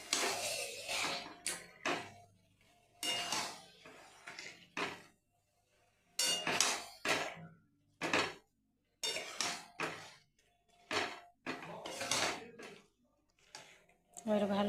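Marinated chicken goes into a hot pan for a Bengali-style yogurt chicken curry, with intermittent clinks and scrapes of utensils against cookware, some louder knocks, and quiet pauses in between.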